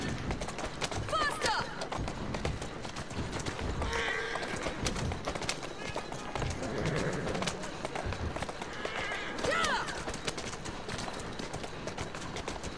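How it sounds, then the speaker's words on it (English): Horse-drawn carriages in Victorian London streets in Assassin's Creed Syndicate, clip-clopping hooves and rolling wheels forming a busy, constant street bed with pigeons cooing and a voice talking over it. "There's like a crap ton of horse carriages, man."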